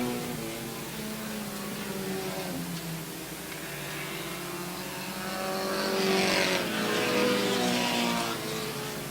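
Race cars on an oval track roar continuously, engines droning and shifting pitch as the field comes off turn 4 late in the race, swelling louder in the second half as cars pass close.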